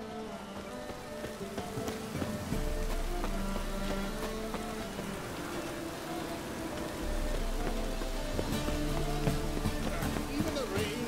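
Steady rain falls in The Witcher 3 game world, a constant hiss under low game music and ambience, with voices speaking over it and a thudding rhythm that resembles horse hooves or running.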